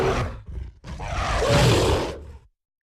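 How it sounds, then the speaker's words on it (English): A gorilla roar sound effect: a loud, rough, broadband bellow in two bursts, a short one followed by a longer sustained roar that swells and then cuts off, heard alone. "now in 2026, Tommy used the gorilla roar"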